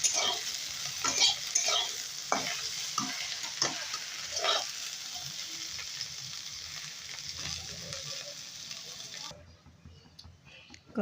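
Potatoes frying in oil in a wok, a close steady sizzle punctuated by repeated spatula scrapes and taps, fading sharply in the final seconds.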